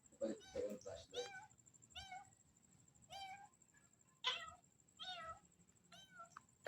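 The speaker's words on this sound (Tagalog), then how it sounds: "Creepy ng pusa, guys." A cat meows several times at night in a cemetery, repeated drawn-out wavering cries, fairly close but faint, over a quiet background with a steady high insect-like whine.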